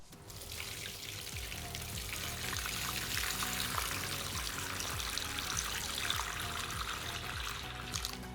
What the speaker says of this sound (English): Now I'm gonna start the timer and start filling up the water.